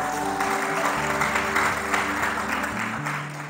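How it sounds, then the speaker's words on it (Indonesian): A church congregation applauds during a sermon, a moderate spread of clapping over sustained organ or keyboard chords that keep playing beneath it. "Tepuk tangan bagi Tuhan."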